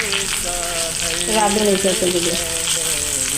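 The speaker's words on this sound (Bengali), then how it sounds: "এটা আমি ভালোভাবে একটু ভেজে নেব পেঁয়াজের সাথে" Spices sizzle and fry with onions in a pan for a Bengali chickpea (chola) dish, with a steady crackle under brief speech and stirring.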